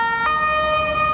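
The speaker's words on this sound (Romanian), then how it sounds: "O salvare!" Ambulance siren on a city street, loud and close, with a steady wailing tone over light traffic noise throughout.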